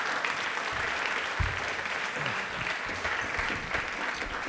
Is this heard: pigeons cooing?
no